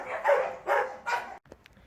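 An American Mastiff at a dog shelter in the South of France gives three loud, close barks in an even rhythm, followed by a few faint small sounds.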